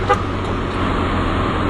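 Steady road traffic rumble with a short car horn toot near the start, close and fairly loud, and the engine hum continuing throughout.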